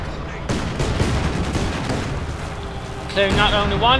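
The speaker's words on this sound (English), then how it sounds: "Lots of mortar fire, in fact" Repeated mortar blasts and battlefield gunfire in a Company of Heroes 2 match, loud booms and crackling shots throughout, with someone talking over the combat.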